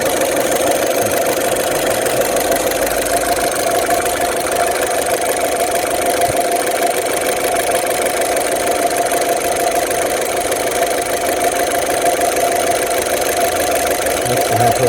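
A 2008 Saturn Astra engine idles steadily after a throttle body replacement, a constant close mechanical hum with faint ticking and no change in pitch.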